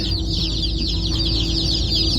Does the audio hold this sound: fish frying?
no